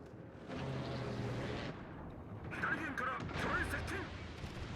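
Main guns of the Yamato, the largest-gun Japanese battleship, firing in World of Warships: heavy, sustained rumbling blasts rolling over a steady low roar, with a second harsher burst of crackling impacts following.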